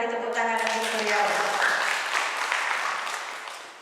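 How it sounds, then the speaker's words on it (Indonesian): An audience at a gender equality seminar claps for a guest speaker, a spread of many hands applauding that starts under a voice speaking, then stands alone and fades gradually toward the end. "kita beri tepuk tangan untuk beliau"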